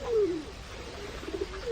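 Pigeons coo in a park, one soft throaty call up front followed by quieter, broken coos close by over low background noise.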